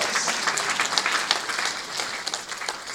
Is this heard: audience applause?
yes